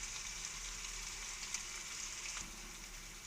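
Chicken frying in a pan with ginger garlic paste and salt for a cashew masala curry, giving a soft, even sizzle that hisses steadily, with a few faint pops and no voices.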